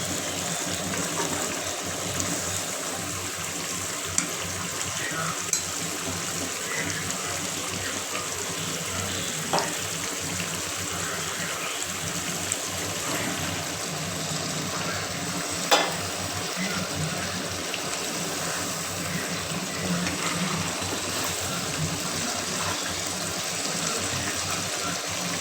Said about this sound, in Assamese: দেখিছেনে ইমান ধুনীয়াকৈ উতলিব ধৰিছে।